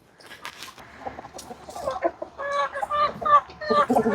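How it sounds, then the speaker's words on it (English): Backyard chickens cluck and squawk close by in repeated bursts that grow busier toward the end, with no talk over them. "Somebody's back to her backyard chickens."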